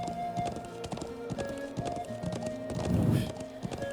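Horse hooves gallop in a rhythmic, steady clip-clop in the video game Trails of Cold Steel, the quick beats carrying along alone over a quiet game backdrop.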